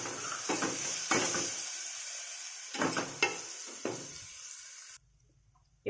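Spices with turmeric, red chilli powder, salt and curry leaves fry in a pan for potato masala fry, a soft sizzle broken by several scraping stirs before cutting off abruptly.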